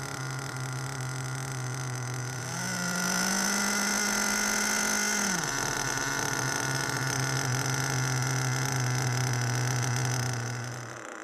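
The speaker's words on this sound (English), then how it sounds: "The engine will not sound too clean during break-in, as it is tight and running quite rich in fuel." HPI Big Block nitro engine idling during break-in, running tight and rich: a steady buzzing drone that rises briefly in pitch and loudness midway, then settles back to an even idle.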